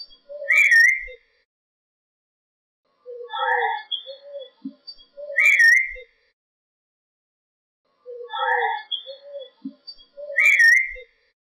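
High, tuneful whistling at Hever Castle at twilight arrives in a few separate bursts with quiet gaps between them, faint and fairly distant, with no talking.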